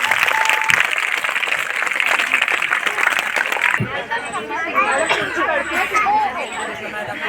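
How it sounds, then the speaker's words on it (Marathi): A crowd claps loudly and steadily for several seconds, then the clapping fades into murmuring chatter and scattered voices. "जोरदार टाळ्या झाल्या पाहिजेत."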